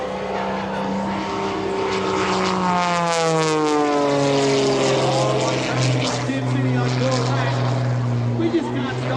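An aerobatic propeller airplane engine drones loudly and steadily, its pitch sliding down and rising as it passes overhead at the EAA AirVenture Oshkosh airshow, with a crowd murmuring underneath.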